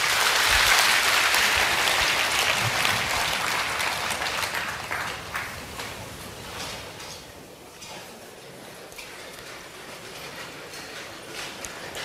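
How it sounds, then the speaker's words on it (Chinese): Sustained applause from an audience at a Buddhist dharma talk and fire puja ceremony, dense and loud at first and then slowly thinning and easing off over several seconds. "我们再次以热烈的掌声感谢师尊精彩宝贵的转法开示"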